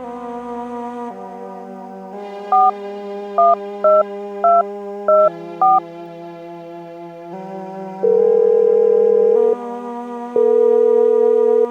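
A call being dialed on a telephone: a run of short, evenly spaced keypad tones followed by two longer held tones, all heard over a steady musical background.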